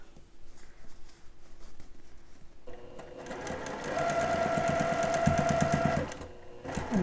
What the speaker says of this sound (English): we'll back stitch where we finished sewing the side panels